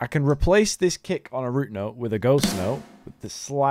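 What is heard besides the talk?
No distinct noise like a dog, phone or traffic.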